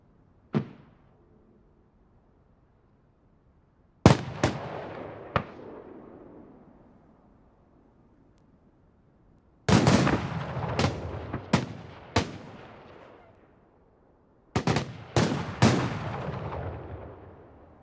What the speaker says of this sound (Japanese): 花火動画図鑑。 3層正方形。